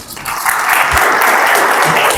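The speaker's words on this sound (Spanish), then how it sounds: "Recibimos con un fuerte aplauso" A conference audience at a cybersecurity and cyberdefense event applauds as a speaker is welcomed, with the clapping rising quickly into a brief, dense burst.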